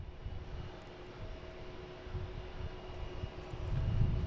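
KLM airliner taxiing at Boston Logan Airport, a low, continuous engine rumble with a faint steady whine, building toward the end as the jet moves closer, with no talk.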